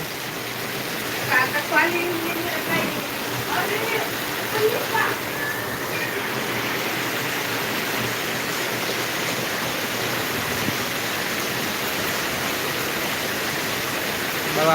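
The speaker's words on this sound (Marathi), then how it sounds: "कंटिन्यू पाऊस पडत आहे" Steady, dense hiss of heavy rain pouring continuously in Latur, India, loud and unbroken, with a few faint voices early on.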